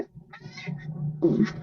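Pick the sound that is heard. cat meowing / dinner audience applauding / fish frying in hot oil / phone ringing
cat meowing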